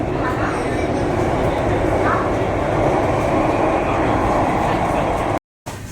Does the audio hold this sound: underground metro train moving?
yes